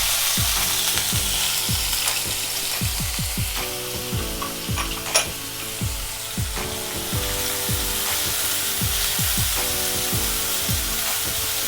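Finely chopped onion and garlic sizzle steadily in a hot pan for Malwani prawn masala, with rhythmic scraping stirs cutting through the constant frying hiss, close and fairly loud, with no talk.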